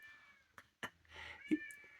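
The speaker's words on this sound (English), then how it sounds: "Can you hear my cat?" A cat meows a few times in short, separate calls, fairly close, with a steady faint tonal hum running underneath.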